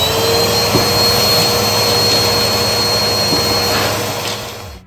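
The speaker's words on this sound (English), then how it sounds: "you want to have a vacuum close by. That way you can clean as you go" A vacuum cleaner runs steadily and loudly during drywall repair on dog-damaged wall, a constant close-up roaring whoosh that dips slightly in the final second.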